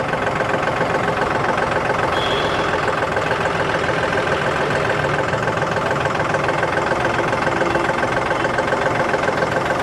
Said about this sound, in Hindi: क्लियर क्रिस्पी शार्प सी आवाज़ है ट्रैक्टर की।